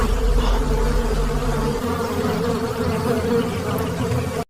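Dense, steady buzzing of many bees swarming around a large hive on a tree branch in the Amazon jungle, loud and close with no voices.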